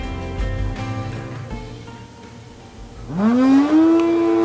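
A small motor in a 3D printed speedboat whines during a bench test, a loud tone that sweeps sharply upward as it spins up, then holds a steady high pitch.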